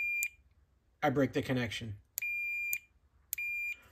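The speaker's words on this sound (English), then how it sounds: "And we get that beep." Continuity tester gives sharp, steady electronic beeps as a microwave oven switch closes, three short tones repeating with gaps, preceded by someone speaking close by.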